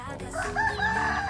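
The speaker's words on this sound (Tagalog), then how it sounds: "mga manok" A rooster crows nearby on a provincial farm in Nueva Ecija, Philippines, a single drawn-out call rising over faint background noise.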